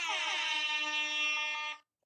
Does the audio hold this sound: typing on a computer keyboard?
no